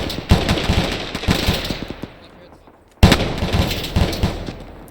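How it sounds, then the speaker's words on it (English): Automatic rifle fire in the military shooter Arma 3, with loud, rapid cracking bursts up close, a short pause, then another sustained volley, and voices faintly underneath. "Shooting over your head."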